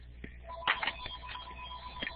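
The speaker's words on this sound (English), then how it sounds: "I just had a phone call I had to" A telephone rings with a short electronic trill, the tones repeating over a faint background hum.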